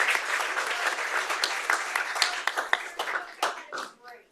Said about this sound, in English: let's give our ladies a round of applause